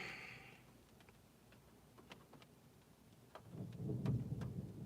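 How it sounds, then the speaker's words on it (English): Low thunder rumbles in the distance and swells toward the end, with scattered light ticks and patters of rain over a faint, quiet background. "Thunder."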